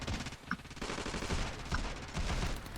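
Rapid gunfire from the video game Ravenfield, a dense, sustained volley of overlapping shots and automatic bursts filling the whole stretch at steady loudness, with no talking.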